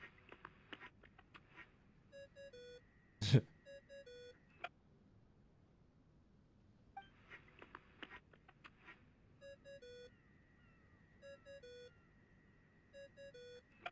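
A phone-call ringtone in Genshin Impact, a video game: repeated short electronic beeping phrases in a bright chiming pattern, sounding in bursts with pauses between them and one sharp click partway through.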